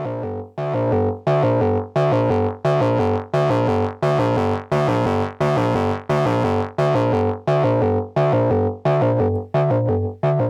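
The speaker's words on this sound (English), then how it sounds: "as I open up the low pass filter on this synth patch, I'll let more highs through and they'll start to distort" A synth plays a repeating rhythmic pattern of short notes through a Great Eastern FX XO Variable Crossover, growing brighter and more gritty and distorted as its low pass filter opens up.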